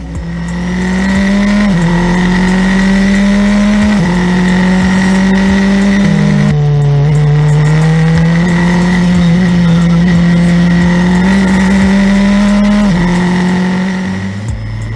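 Formula 4 race car engine droning loudly on a street circuit lap at partial throttle, its pitch rising and dipping through shifts and corners in a steady, close onboard roar without any talk.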